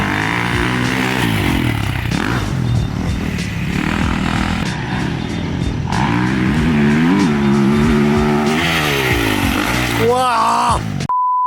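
A 2024 Kawasaki KX450F dirt bike ridden hard, its loud engine revving up and down through gear changes over about eleven seconds, with a jump-like surge near the end; voices occasionally mixed in.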